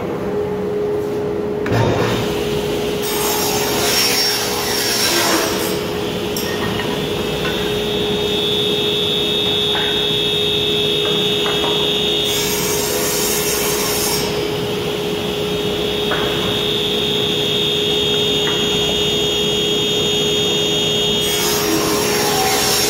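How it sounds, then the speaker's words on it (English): A saw rips three wooden drawer faces to width in a woodshop while a dust vacuum system hums steadily; three separate loud cutting bursts rise over the constant whine. "turn on the vacuum system, run the three drawer faces through to the width that I need"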